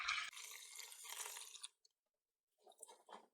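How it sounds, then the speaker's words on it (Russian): Cold water poured over rice in a bowl makes a close, bright rushing splash for over a second, then stops; after a short silence come fainter wet trickles and stirring. "Рис высыпаем в миску, заливаем его холодной водой."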